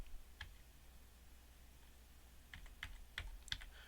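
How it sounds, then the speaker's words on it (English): Keystrokes on a computer keyboard while entering a student ID at a MySQL login prompt: a lone click, a pause, then a quick cluster of crisp taps near the end, recorded close and quiet. "So I'll type in the student ID number,"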